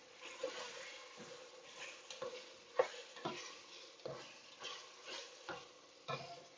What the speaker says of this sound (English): Just keep stirring. And you're going to see some browning in here.